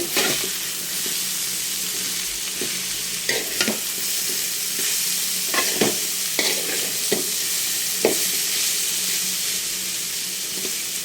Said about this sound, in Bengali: এই যে আম্মু এখানে করলা ভাজি করছে